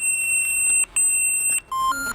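Electronic pager of a KNRM lifeboat crew in Breskens beeps in steady high-pitched tones, pausing briefly twice before a lower tone joins in.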